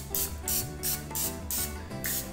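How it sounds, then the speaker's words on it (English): Six quick, evenly spaced spritzes from a can of butter cooking spray, close up, with steady hissing bursts and no talking. "now I'm gonna go ahead and spray this with a little bit of butter in there"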